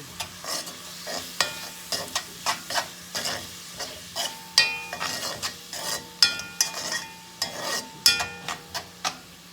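Bacalao and yellow rice being stirred in a hot pan, with repeated spoon scrapes and clatters against the pan over a steady sizzle of frying, close and fairly loud, no voices.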